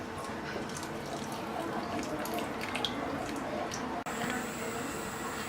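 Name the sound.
pouring remaining milk into kheer pot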